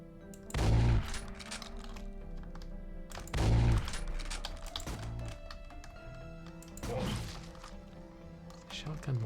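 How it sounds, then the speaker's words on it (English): Shotgun blasts in a horror video game, three heavy booming shots spaced a few seconds apart, each with a ringing tail, over a low game soundscape. "Shotgun more effective at close range"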